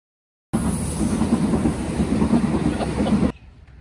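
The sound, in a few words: train arriving and passing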